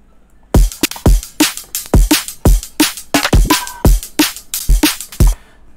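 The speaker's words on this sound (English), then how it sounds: "So the drums sounds like this." Punchy electronic drums play a tight, repeating beat, heavy kicks and sharp snappy hits landing close and loud, with no voices.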